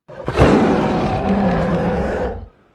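A voice imitates a bear roar, producing a loud, sustained, growling rasp of about two seconds that starts abruptly and cuts off cleanly, close and without other sound.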